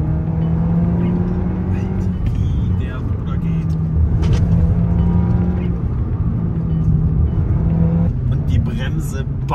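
Loud, steady engine drone heard from inside a Volkswagen Golf R 20 Jahre, its pitch climbing as it accelerates, with people talking over it.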